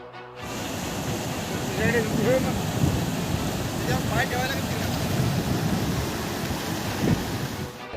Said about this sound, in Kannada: ಪಶ್ಚಿಮ ಘಟ್ಟಗಳಲ್ಲಿ ಸುರಿಯುತ್ತಿರುವ ಮಳೆ ಉತ್ತರ ಕರ್ನಾಟಕದಲ್ಲಿ ಪ್ರವಾಹ ಸೃಷ್ಟಿಸಿದೆ